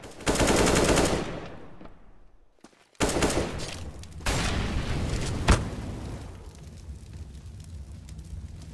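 Counter-Strike gunfire on the Cache map during a competitive match: bursts of rapid automatic fire, a brief silence, then more sustained shooting and a sharp single crack, loud and close.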